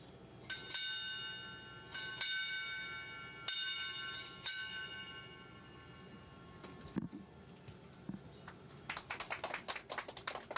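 A small naval bell rung aboard the International Space Station during a change-of-command ceremony: several bright, ringing strikes at intervals, then a quick flurry of rapid strokes, faint over a steady background hum.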